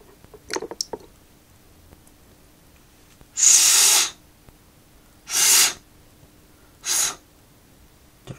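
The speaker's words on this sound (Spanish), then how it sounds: "Lo que hago es soplar bien por dentro de aquí para que salga la suciedad." Three loud, broad bursts of breath blown through a dirty aquarium filter to clear out the grime, each lasting under a second with short pauses between, preceded by a few faint clicks.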